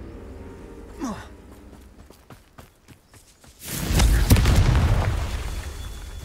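Confringo fire spell blast in the Hogwarts Legacy video game: a series of light clicks and pops, then a heavy booming explosion that rumbles and fades over the last seconds.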